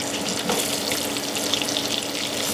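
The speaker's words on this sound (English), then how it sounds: "This is the sound of bacon grease." Bacon grease sizzling and crackling in a frying pan while cooking bacon for a sandwich, a dense, steady hiss with scattered pops and spits, close and fairly loud, no talking.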